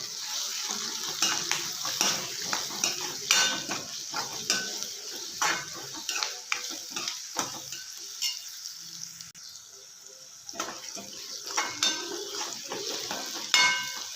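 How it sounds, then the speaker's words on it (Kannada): Spice mix with turmeric powder being stirred in a pan for North Karnataka style chapati upma, repeated scraping and clinking of a spoon against the pan over a faint sizzle, close and steady with brief pauses. "ಚೆನ್ನಾಗಿ ಮಿಕ್ಸ್ ಮಾಡ್ಕೊಳ್ಳೋಣ."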